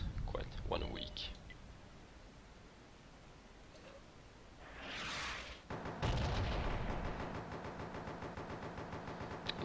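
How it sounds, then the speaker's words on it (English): Artillery fire in the World of Tanks video game: a muffled blast rises and fades amid faint clicks and rustling, followed by a sustained rumble. "No idea why that artillery went all the way up there."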